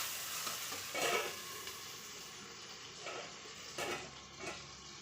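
Brinjal (eggplant) slices frying in oil, a steady soft sizzle with a few brief louder stirring scrapes, close and fairly quiet, no voices.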